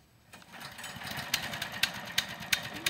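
A small sawmill engine catches and starts, then keeps running with a steady putter and sharp periodic knocks, heard close and fairly quiet.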